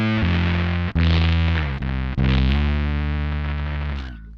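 Bass guitar run through a Boss SYB-3 bass synthesizer pedal, giving thick, buzzy synth tones that hold and shift pitch in a few sustained notes with brief breaks, loud and alone.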